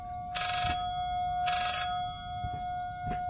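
A telephone rings in a horror video game, two loud electronic ring bursts close together over a steady tone and low rumble, followed by fainter clicks.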